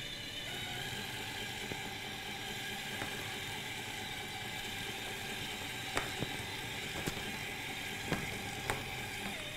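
A motor-driven belt conveyor on an FTC robot prototype carries rings along with a steady, even whir, with a few light clicks and ticks scattered through the run.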